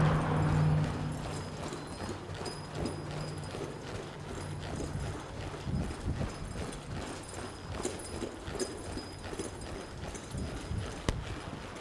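A mustang under saddle walks and turns in an arena, its hooves clip-clopping in a steady, moderately close rhythm, with a faint snort or whinny near the start.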